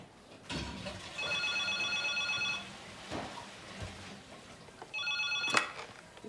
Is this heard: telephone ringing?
yes